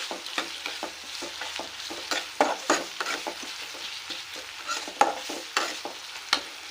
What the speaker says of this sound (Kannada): ನಾನು ಚೆನ್ನಾಗಿ ಮಿಕ್ಸ್ ಮಾಡ್ತಾ ಇದ್ದೀನಿ. ಟೊಮೆಟೊ ಈರುಳ್ಳಿ ಎಲ್ಲನೂ ಚೆನ್ನಾಗಿ ಸಾಫ್ಟ್ ಆಗಿದೆ.